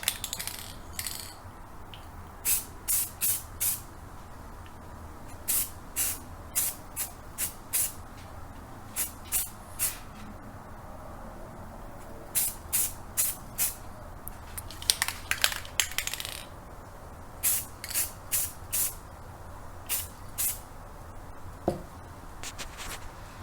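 Short, crisp hissing bursts of gray acrylic primer spray onto a Thanos figure, repeated in quick clusters over a steady low background hum, with no talk.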